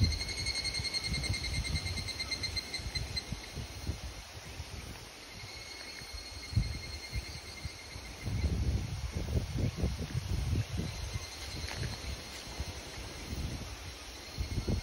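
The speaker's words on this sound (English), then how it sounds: "the sounds of the cicadas in the summer" Cicadas singing through a Japanese summer, a steady high-pitched drone that holds behind wind noise and rustling outdoors.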